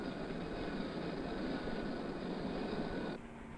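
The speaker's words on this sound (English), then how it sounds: "countless commuters' trains." A commuter train running on rails, a steady close rumble that holds evenly and then cuts off abruptly near the end, with a softer hum remaining.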